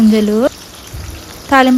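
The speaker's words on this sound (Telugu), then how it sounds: "గింజలు వేసుకొని ఫ్రై చేసుకోవాలి" Tempering seeds frying in about three tablespoons of hot oil in a kadai crackle and hiss steadily, with a voice sounding briefly at the start and end.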